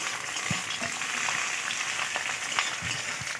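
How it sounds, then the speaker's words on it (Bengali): Chopped onion fries in hot oil with dry red chillies and whole garam masala, a dense, close sizzle with a few soft stirring knocks and no talk. "এটা শুকনো লঙ্কা দিয়ে দিলাম, একটু গোটা গরম মশলা দিয়ে দিলাম, এই পেঁয়াজ কুচিগুলো দিয়ে দিলাম, দিয়ে এটা একসঙ্গে একটু ভালো করে ভেজে নিতে হবে।"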